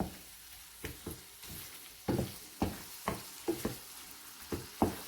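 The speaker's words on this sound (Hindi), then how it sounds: "अब इसको इसी तरह से मिला लेंगे, अच्छी तरह से इसी में भून लेंगे। फ्लेम मैंने बहुत ही लो रखी हुई है।" Prawn karahi masala sautés in a pan over a very low flame, a soft low sizzle punctuated by a series of sharp spoon scrapes and taps as it is stirred.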